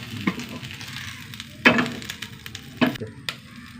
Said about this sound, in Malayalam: വെണ്ടയ്ക്ക വറുത്തു